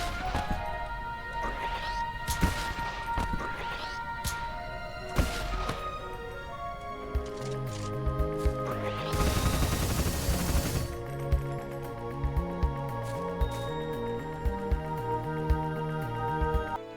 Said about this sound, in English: The bolt thrower, well, throws bolts and has 20 shots before you have to wait a minute for it to recharge